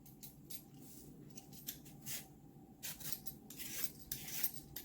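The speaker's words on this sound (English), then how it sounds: "So I'm going to go ahead and peel these. Sweet potatoes are definitely not my favorite thing to peel." Sweet potatoes being peeled, close quiet rasping strokes in uneven bursts, each stroke a short scrape with small gaps between them.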